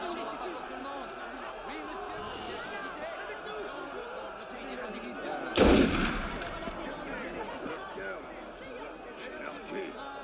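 A single loud gunshot rings out in the Assassin's Creed Unity video game, a sharp close burst over a steady background of crowd murmur and ambient noise, with a short fading tail.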